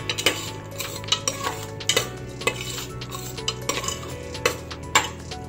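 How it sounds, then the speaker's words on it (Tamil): Metal spoon stirring and scraping masala powder through mushroom biryani in a pot, with repeated clinks and scrapes in an irregular rhythm, close and moderately loud, no talking. "ஆட் பண்ணி நல்லா மிக்ஸ் பண்ணி விட்டுக்கலாம்."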